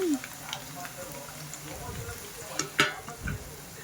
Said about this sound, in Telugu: కాకరకాయ మంచిగా వేగాలి ఆయిల్లో డీప్గా బ్రౌన్ కలర్ వచ్చేదాకా వేయించేసేసుకోవాలి